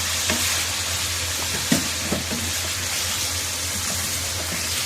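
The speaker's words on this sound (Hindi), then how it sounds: "ये इसको थोड़ा सा भूनना है" Chicken sizzles in a pan with ginger garlic paste for a green chicken karahi, a steady frying hiss broken by a few scraping stirs of the spoon.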